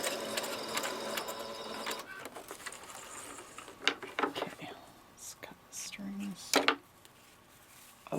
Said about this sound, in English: And back stitch to lock it in.